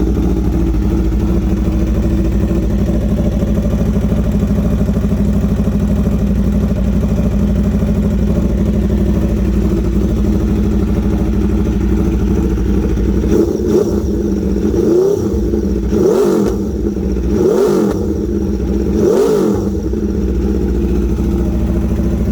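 A warmed-up Aprilia RSV4 Factory motorcycle engine idles steadily and loudly up close, then gets four sharp throttle blips that rise and fall in quick succession toward the end.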